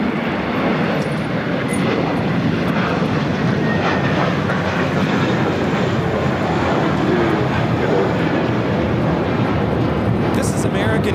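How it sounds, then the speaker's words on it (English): American Airlines A321 taking off at LAX, a loud steady broadband engine roar sustained for the whole stretch, with people talking faintly underneath. "This is American Airlines Flight 2 taking off to JFK on the A321"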